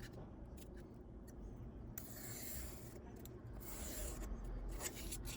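A blade cutting through foam core board, a steady close rasping scrape that runs on without a break and grows slightly louder toward the end, with no voices.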